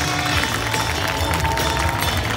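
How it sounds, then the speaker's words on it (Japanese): A large stadium audience applauds to welcome two former Yokohama DayStars baseball players, a dense continuous wash of clapping and crowd noise heard close and loud throughout. "大きな拍手でお迎えください"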